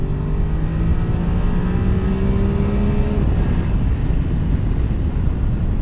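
Voge 900 DSX motorcycle accelerating on the road, a steady loud engine drone with rising pitch that drops after a gear change, under constant wind rush from the rider's position.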